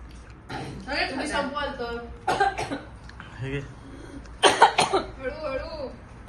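Several short, harsh coughs burst out between stretches of conversation, loud and close, with people talking before and after them.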